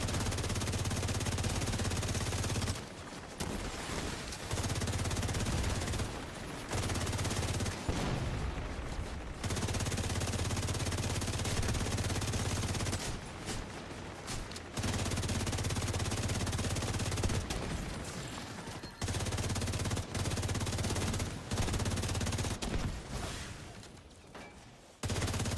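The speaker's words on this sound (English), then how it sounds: "They have LMGs just suppressing the shit out of these things." Sustained light machine gun fire in The Division 2, long loud bursts of suppressing automatic fire broken by short gaps, steady and close throughout.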